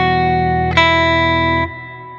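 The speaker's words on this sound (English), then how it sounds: "So now swell is going back into reverb again." A Chroma Console guitar effects unit sustains a rich harmonic chord through a swell effect feeding into reverb, swelling briefly, then dropping to a softer decaying tail, with no talking.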